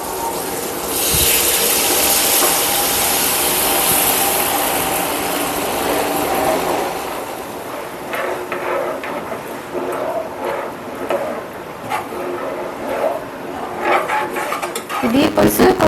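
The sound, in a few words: tamarind pulp poured into fish curry pot, cooking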